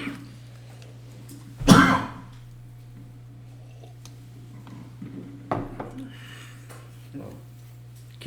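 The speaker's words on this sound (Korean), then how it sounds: "기침이 아직 좀 나와요." A single sharp cough from a speaker during a classroom accounting lecture, loud and close, followed by quieter throat noises and small clicks over a steady electrical hum.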